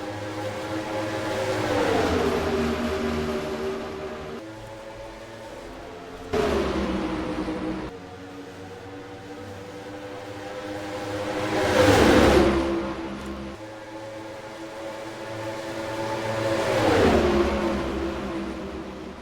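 Several IROC race cars roar around Atlanta Motor Speedway in an NRLOA IROC II race under the night lights, engines droning loudly and swelling into three rising pass-by peaks as the pack sweeps past, with no talk.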